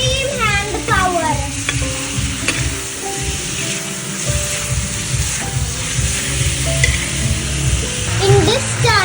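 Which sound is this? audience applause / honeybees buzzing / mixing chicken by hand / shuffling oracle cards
mixing chicken by hand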